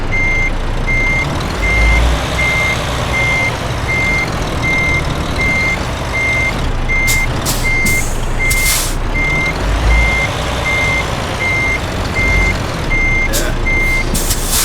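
A truck in Euro Truck Simulator 2 backs into a parking spot, its reversing alarm beeping in a steady, evenly spaced rhythm over a loud engine drone, with a few short hissing bursts from the air brakes.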